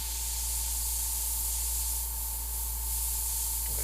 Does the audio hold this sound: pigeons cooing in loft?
no